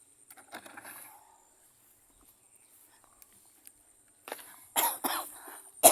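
Faint scattered clicks and rustles, then a few short bursts of coughing near the end, close to the microphone.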